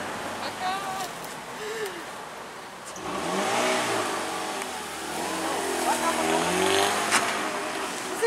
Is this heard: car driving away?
yes